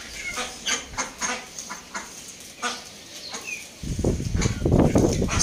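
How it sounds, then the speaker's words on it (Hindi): Pet ducks feed on leaves set out as rabbit fodder, giving scattered faint quacks and calls among background birdsong, then a louder stretch of close rustling and dabbling toward the end, with no talking. "सारे पत्ते खा गई हमारी डक्स।"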